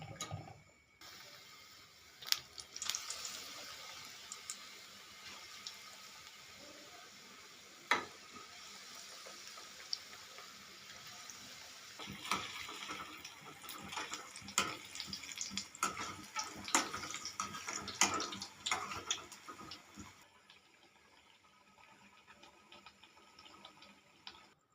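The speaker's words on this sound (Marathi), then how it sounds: "त्याच्यात जे आपण चिप्स केलेले ते असं घेऊन आपण तळून घेणार आहेत" Batter-coated potato chip slices frying in hot oil for aloo chips bhaji, a soft steady sizzle and crackle with louder bubbling bursts in the middle before fading, fairly quiet and without talking.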